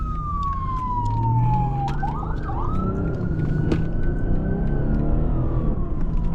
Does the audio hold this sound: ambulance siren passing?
yes